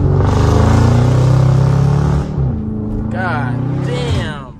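A 2022 Dodge Charger Scat Pack roars loudly as it revs hard while spinning out on a neighborhood street, a sustained bellow that drops off and then rises again in a second whining surge as tires spin.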